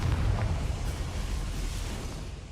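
A Confringo fire spell detonates in the video game Hogwarts Legacy, a loud, sustained roaring blast with a heavy low rumble that slowly fades over a couple of seconds.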